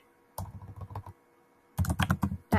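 Typing on a computer keyboard, two short bursts of quick, close, soft key clicks separated by a pause, with no talking.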